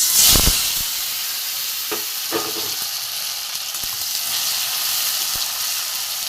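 Chopped onion and tomato hit a hot frying pan for a mustard-poppy seed fish curry, bursting into a loud sizzle that settles into a steady, close frying hiss with a few soft stirring knocks.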